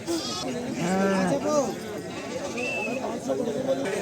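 Sheep bleat repeatedly at an open-air livestock market in Pebbair, with several wavering calls rising over a constant murmur of people talking and haggling nearby.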